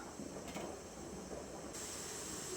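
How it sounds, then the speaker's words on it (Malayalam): Water boils in an idli steamer with a faint, steady hiss of steam that runs evenly throughout, with no talk. "ഇഡ്ഡലിത്തട്ടിൽ വെള്ളം വെച്ച് കൊടുത്ത് വെള്ളം നല്ലതുപോലെ തിളച്ച് വന്നിട്ടുണ്ട്"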